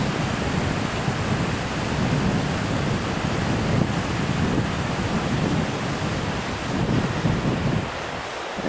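Spring floodwater rushes across a rural road in Ward County, a continuous broadband roar of flowing water with wind-like hiss, steady and fairly loud throughout, with no voices.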